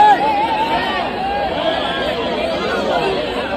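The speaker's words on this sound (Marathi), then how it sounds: "इथं बघू शकता किती गर्दी आहे आणि आवाज पण खूप आहे" Dense crowd hubbub at the Chinchpokli Chintamani Ganesh arrival procession, a steady wash of many voices chattering close and loud without a break.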